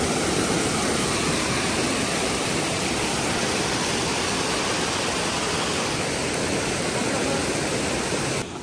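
A mountain stream at Naran Kaghan rushes continuously, a dense, loud and unbroken roar of flowing water with no pauses or other sounds rising above it.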